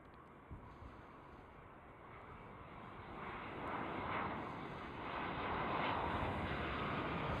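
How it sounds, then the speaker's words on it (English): KLM Boeing 787 airliner at Amsterdam Schiphol airport: a steady, broad jet engine roar heard from a distance, slowly growing louder over several seconds with no talk. "First aircraft of today, KLM 787."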